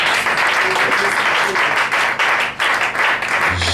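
A church congregation applauds loudly and steadily in dense, continuous clapping, with some voices mixed in.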